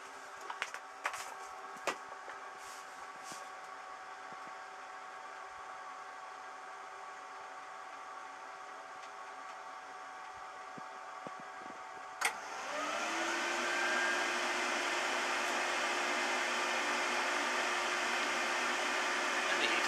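An Eberspacher X7 diesel heater starts up: a quiet, steady hum with a few faint clicks, then a sharp click and a louder, broadband roaring rush as combustion begins and holds steady to the end.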